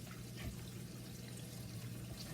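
Kitchen tap water runs steadily for hand washing after coating chicken for frying, a soft continuous hiss close by with no talk.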